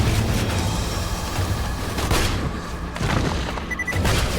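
Dense, continuous gunfire and blasts roar without pause in Borderlands 2, with heavy booming explosions layered over a constant wall of noise.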